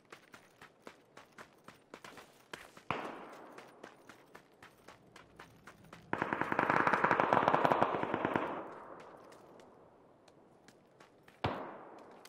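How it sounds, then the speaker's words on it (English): Rapid bursts of muffled suppressed Vector gunfire in PUBG, irregular shots then a dense sustained volley, fairly faint and close. "If you can hear suppressed vector, then it's close."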